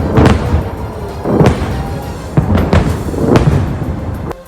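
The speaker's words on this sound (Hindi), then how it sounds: "रॉकेटों के फटने से आसमान में ऐसे धमाके हुए जैसे दिवाली के पटाखे फूट रहे हों" Hezbollah rockets burst in the sky as Iron Dome intercepts them, a run of four or five loud booming blasts a second or so apart, each with a short rumbling tail.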